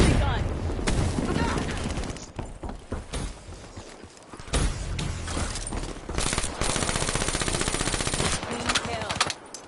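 An automated sentry gun in Call of Duty Black Ops 3 fires in rapid, sustained bursts, with loud continuous rattling stretches broken by short pauses, mixed with other game sounds.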